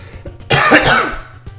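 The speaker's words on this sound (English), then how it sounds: "Can I just get a minute of relief from this stupid cough so I can play the game?" One harsh, close cough from a man playing an NES game, a loud burst lasting about half a second over quiet game sounds.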